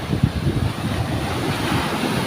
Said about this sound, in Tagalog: Ay, tingnan niyo mga bro ang alon